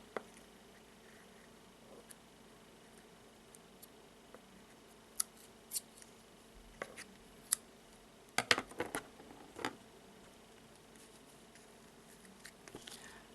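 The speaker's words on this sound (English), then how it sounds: "And now I will cut the yarn" Scissors snip through yarn in a quiet indoor room, a few sparse soft clicks followed by a close cluster of quick sharp cuts, with light handling noise between them.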